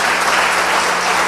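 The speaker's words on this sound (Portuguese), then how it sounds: "Dá uma salva de palmas ao Senhor." A church congregation claps in dense, loud, sustained applause filling the space throughout, with no distinct voices over it.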